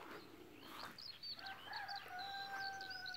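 Roosters crow in the distance in rural Masuria, Poland, one long drawn-out call stretching across the quiet early-morning air before sunrise, with faint other bird calls around it.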